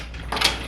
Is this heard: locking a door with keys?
yes